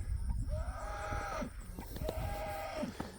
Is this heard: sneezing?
no